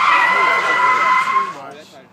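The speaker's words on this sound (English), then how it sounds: "Them Nissans be skid racing." A Nissan S13 drifts with a long, loud tire screech that holds steady and then fades away over about two seconds.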